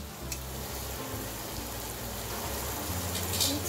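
Chicken bharta masala with ginger-garlic paste fries while being stirred, a soft, steady crackling hiss over a low background drone with a brief sharper scrape near the end.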